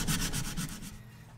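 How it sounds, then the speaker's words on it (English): Rhythmic hand sanding of an aluminum compressor housing, several quick back-and-forth rubbing strokes close by, fading out after about a second. "it's been about an hour and a half of hand sanding"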